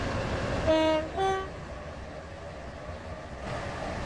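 A Class 717 train in a video game sounds two short horn toots in quick succession, then a steady low rumble of running on rails continues with no one speaking.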